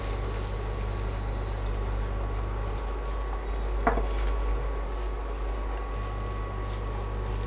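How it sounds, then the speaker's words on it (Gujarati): Spices and salt being stirred into hot oil in a pan, giving a steady close sizzle with soft scraping and one brief clatter midway, over a constant low hum. "સ્વાદ પ્રમાણે મીઠું ઉમેરીને હલાવી લઈશું"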